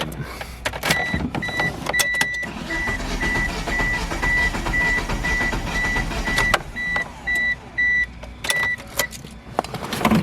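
A 1999 Mitsubishi Eclipse GSX engine cranking over on the starter during a compression check, with rhythmic whirring bursts that stop and restart and a repeating electronic beep on top.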